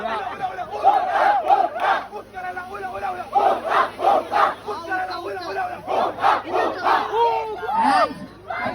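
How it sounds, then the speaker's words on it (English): A team shouts and cheers together at a corporate team-building activity, with loud rhythmic chanting and rising crowd yells that fill the whole stretch. "Team captain, kindly cheer up for the team,"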